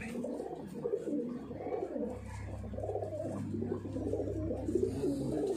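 Soft, low cooing of Madrasi pigeons inside a loft in Barrackpore, Kolkata, repeating in gentle overlapping phrases over a steady low hum, with no talk.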